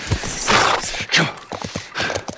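In The Last of Us Part 1, a horse gallops with quick, close clip-clop hoofbeats in uneven bursts, a snorting breath or two mixed in among the hooves.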